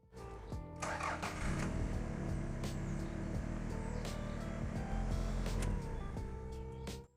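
A Toyota 4x4 engine cranks and fires, then settles into a steady, loud, close-up idle that runs for several seconds before cutting off.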